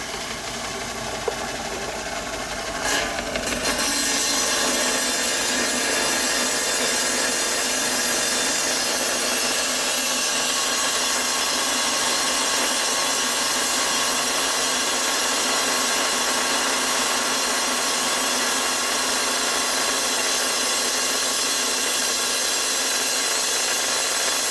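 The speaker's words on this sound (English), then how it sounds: "Like I said, these rock saws don't cut very quickly. They're grinding." A lapidary rock saw grinds steadily through a geode to cut it in half, a loud continuous abrasive whine that starts after a few seconds and holds unbroken to the end with no talk.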